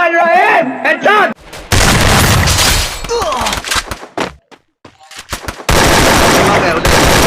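Loud, close bursts of automatic gunfire in a shooter video game, the rapid volleys broken by short pauses, with a voice heard in the first moment and some game sounds between the bursts.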